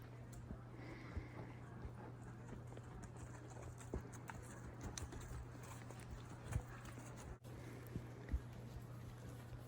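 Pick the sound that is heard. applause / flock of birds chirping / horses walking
horses walking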